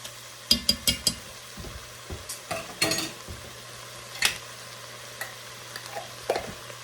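Garlic cooks in a pan for Zuppa Toscana with a quiet sizzle under scattered spoon clinks and scrapes, some quick taps near the start, over a low steady hum.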